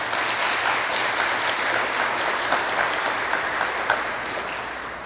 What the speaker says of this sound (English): Let's give up a big hand for that.